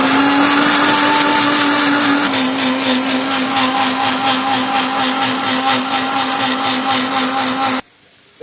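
A kitchen mixer grinder whirs loud and steady while grinding mustard seeds and green chillies with water, its motor holding a constant hum with a slight pitch drop partway through, then cutting off abruptly near the end.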